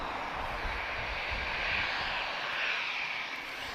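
A TAP Airbus A320-214 jet bound for Madrid at Lisbon Airport gives off a steady, broad engine roar that hangs evenly at moderate distance without a break.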